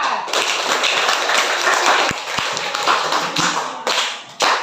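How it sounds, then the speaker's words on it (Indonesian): A classroom group gives a group of students a round of applause, dense overlapping claps going steadily for several seconds, close and fairly loud, with a few sharper taps standing out. "Ya, kita aplaus untuk kelompok 4"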